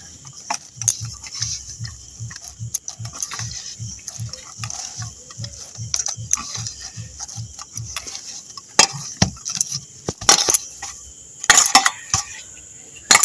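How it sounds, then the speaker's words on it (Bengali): Hands knead semolina luchi dough worked with a little white oil, making a steady run of soft, rhythmic squishing presses. Sharper clicks and knocks follow later, close and fairly quiet. "এবার তেল দিয়ে মেখে নেব"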